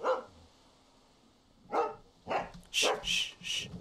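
A dog in The Walking Dead: Season 2 video game barks several times, short sharp woofs spaced unevenly and coming faster toward the end, heard clearly over a quiet background.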